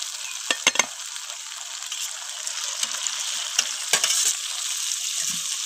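Lote (Bombay duck) fish fry in spiced oil, a continuous bright sizzle broken by a few sharp stirring clacks and soft scrapes, fairly close and with no talking.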